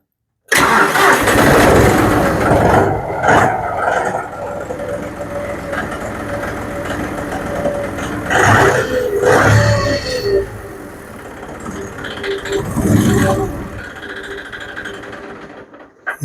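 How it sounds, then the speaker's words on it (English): John Deere engine with air in the fuel line after a sludged fuel tank, cranking loudly for several seconds with uneven surging bursts as it catches and tries to run. "We'll go ahead and try to crank it and see what happens."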